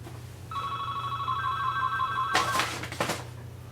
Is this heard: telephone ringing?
yes